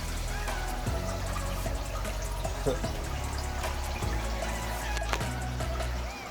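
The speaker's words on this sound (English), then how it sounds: "In almost no time at all, we've got almost all these tanks drained down" Water drains from shrimp tanks during a weekly water change, with steady trickling and dripping mixed with pump-like hum and scattered clicks and splashes, continuous and close.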